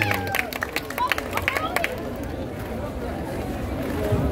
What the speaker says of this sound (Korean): 다시 한번 여러분 박수하는 소리 크게 한번 내주면 너무 좋을 것 같습니다